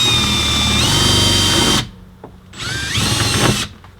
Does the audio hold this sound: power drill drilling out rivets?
yes